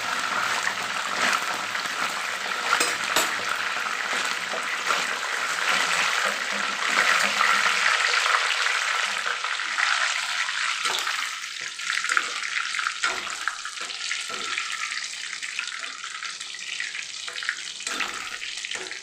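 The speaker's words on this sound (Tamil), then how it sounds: "கொஞ்சம் கருவேப்பிலை ஒரு கொத்து அதுக்குள்ளேயே போட்டுடலாம். அது வந்து நல்லா வெந்து வரட்டும்." Curry leaves sputtering in hot oil while cauliflower chilli fry is prepared, a steady bright crackle filling the pan for the whole stretch, busy at first and easing somewhat later, with no voices.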